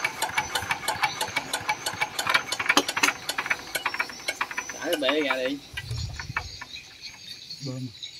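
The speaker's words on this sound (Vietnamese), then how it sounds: "Cái này em test máy nguyên bản cho anh em nghe" An original SS 70 motorbike engine runs at a rattly, ticking idle with mechanical clatter throughout, nearby and moderately loud, with a throttle swell midway and brief voices in the background.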